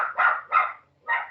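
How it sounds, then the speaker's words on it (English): A pet dog barks three times, close and distinct, two quick barks followed by a brief pause and then a third, with no other sounds around them. "like our dog barking."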